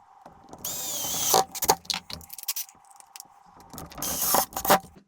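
A power screwdriver drives two screws to fasten a microwave transformer for a homemade battery spot welder, with two whining drill bursts separated by clicks, rattles and handling noise, close and clear.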